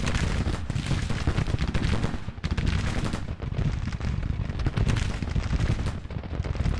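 Artillery and massed gunfire in the Civil War strategy game Grand Tactician at Missionary Ridge, a loud, dense, continuous rattle of shots and booms with no pause.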